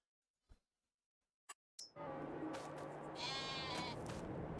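Sheep in Farming Simulator 22 bleat after a few soft clicks and a short quiet stretch, with a clear wavering bleat rising over a sudden steady background of farm ambience.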